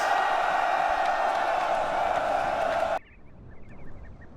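A crowd of soldiers in Rome: Total War cheers loudly for about three seconds, then cuts off abruptly, leaving a quieter, sparse ambience.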